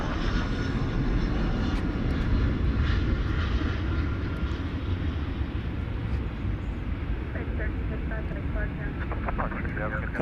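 A jet airliner roars steadily on its takeoff run from a large airport at night, a broad loud rumble lasting throughout, with a person talking over it.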